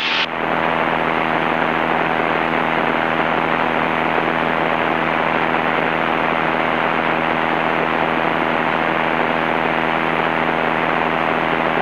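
Loud, unbroken drone of the light aircraft N2536P's piston engine and propeller in flight, heard from inside the cabin with no voices.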